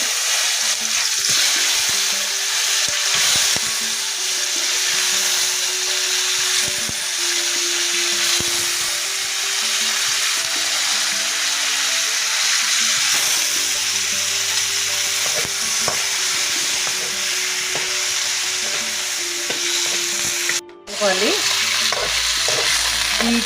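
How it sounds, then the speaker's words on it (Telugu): Potatoes frying with softened onions and turmeric in a pan give a loud, continuous sizzle, with stirring scrapes throughout and a sharp clatter near the end. "ఆనియన్స్ మగ్గాక కొద్దిగా పసుపు వేయాలండి. తర్వాత ఆలు వేయాలి."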